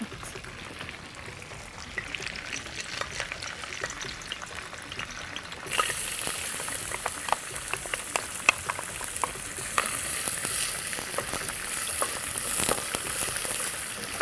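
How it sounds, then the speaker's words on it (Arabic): Onion frying in hot ghee as it is stirred, a crackling sizzle that starts soft and then swells abruptly into a loud, bright hiss with scattered pops and spatters, close up and continuous. "نقلب كده البصله في السمنه"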